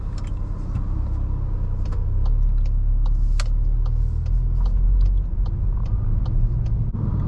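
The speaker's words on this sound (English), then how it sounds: "Today I'm in my 2023 MK8 Golf R. We're going to be going for a little POV drive today" Steady low road rumble inside a 2023 MK8 Volkswagen Golf R on a drive, with faint cabin clicks and small ticks over the continuous drone.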